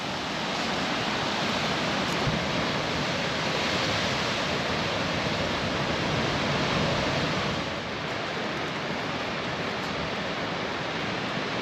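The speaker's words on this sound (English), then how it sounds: "This seems to be a nice little bit for watching the waves down here." Ocean waves churning and crashing below cliffs in Tenerife, a steady broadband roar that holds loud and continuous throughout with only slight swells in intensity, and no voices.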